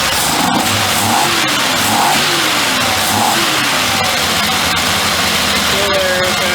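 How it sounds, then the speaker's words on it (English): Engine roars loudly as the throttle is thrown wide open after a Motorcraft 2100 carburetor install, a steady close revving drone with rising and falling pitch sweeps. "Now we're going to throw the throttle open and see if it disconnects."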